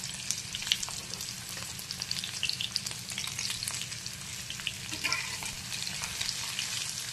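Stuffed ridge gourds frying in a pan over low gas, a dense, even crackling sizzle that carries on steadily throughout with occasional light pops and no speech.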